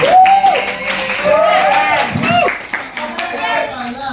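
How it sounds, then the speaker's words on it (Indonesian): Classroom applause during a biology teaching session: a short burst of hands clapping from a group of students, with voices talking and calling out over it. "Tepuk tangan untuk Zara."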